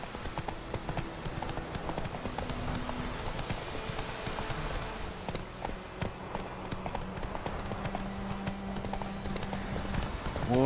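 Horse hooves in The Witcher 3 video game clop in a steady rhythm throughout, fairly close and even, with faint game ambience and a quiet voice now and then.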